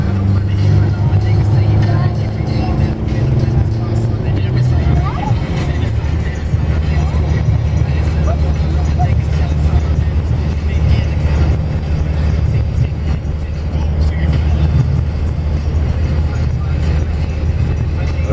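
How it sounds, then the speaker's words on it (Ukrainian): A car drives over a new bridge near Ulcinj, Montenegro, with a loud, steady engine and road rumble throughout while a person talks over it. "Їдемо по новому мосту."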